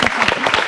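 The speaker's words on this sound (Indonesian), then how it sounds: "Boleh kasih tepuk tangan." Studio audience applause on a health talk show, a dense, steady burst of many hands clapping, loud and close throughout.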